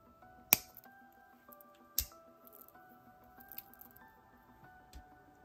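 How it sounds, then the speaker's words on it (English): Jewelry wire is trimmed with cutters, giving two sharp, crisp snips about one and a half seconds apart, close and clear over a quiet background with faint musical tones. "Let me cut off the excess."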